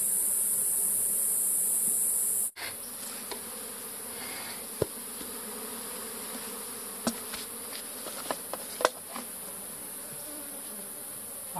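Honey bees buzzing around a closed hive box in an apiary, a steady close swarm drone running throughout with a brief knock near the start and a few faint clicks.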